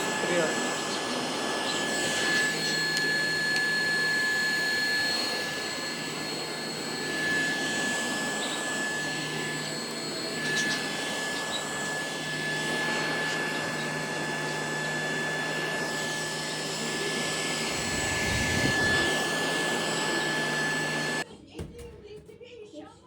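An Icotech F30 cordless rechargeable stick vacuum runs steadily with a whirring motor hum and high whine, mode changes shifting its pitch slightly, before cutting off near the end.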